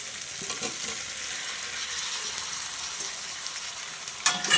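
Fried potatoes stir-fry in a pan with a steady, crackling sizzle, and a sharper scrape of the spatula comes near the end.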